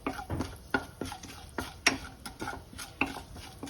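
Urad dal, mustard seeds and cumin with a pinch of turmeric tempering in hot oil, a soft sizzle broken by sharp crackles and spoon taps recurring every half second or so, close and fairly quiet.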